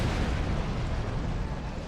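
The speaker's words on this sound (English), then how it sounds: "Detonating charges." Charges detonating in the video game Star Trek Online, producing a dense, continuous roar of explosions with heavy low rumble that stays loud for the whole moment, with no voices.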